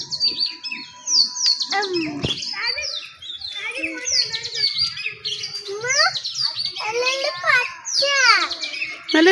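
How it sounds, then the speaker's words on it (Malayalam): A flock of sparrows chirps busily nearby, overlapping bright tweets and rapid twittering in quick bursts, with a voice mixed in among the calls. "കുരുവികൾ സൗണ്ട്."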